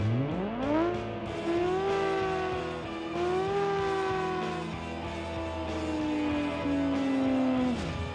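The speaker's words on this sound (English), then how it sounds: "this car has an inline 5 engine" An inline-five rally car engine in the BeamNG.drive driving game revs repeatedly, rising sharply then holding and falling in long sweeps, with a raspy, buzzing tone heard alone.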